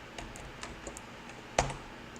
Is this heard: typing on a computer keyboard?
yes